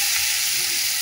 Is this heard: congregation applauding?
no